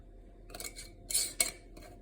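Glass pint canning jars with lids and rims being loaded into a Tfal 22 quart pressure canner, a few sharp close metallic clinks and clatters in quick bursts with quiet gaps.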